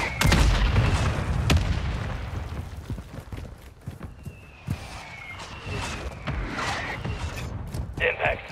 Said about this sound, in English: Requesting mortar strike. Solid copy. Mortar strike on the way.